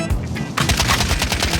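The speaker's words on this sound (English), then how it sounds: "Hostile fire!" Rapid automatic gunfire in the video game Call of Duty: Warzone during a final-circle fight, a dense burst of loud, close shots that grows heavier after a brief lighter opening.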